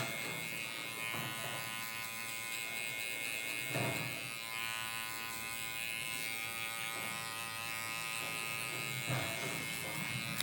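A Babyliss SnapFX hair clipper cutting hair, with a steady close electric buzz that runs throughout and a few brief swells as the blades pass through the hair.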